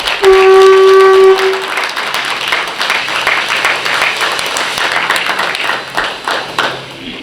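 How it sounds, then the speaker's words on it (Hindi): A large audience claps loudly together at a spiritual discourse by Dr. Vasanth Vijay Ji Maharaj, sustained dense applause after a brief ringing tone at the start, continuing for several seconds without speech. "पहले अपनी खुद की माँ के लिए एक बार जोर से ताली बजाओ"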